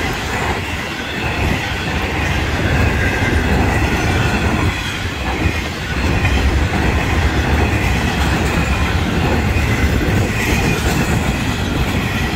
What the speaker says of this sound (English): it is a decent sized train